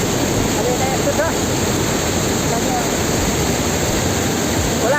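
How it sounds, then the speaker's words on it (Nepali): Water rushes loudly and constantly down the Sundarijal stream in Nepal as a dense, roaring wash close by, with faint bird chirps cutting through now and then. "बवाल पानी आइरहेको छ"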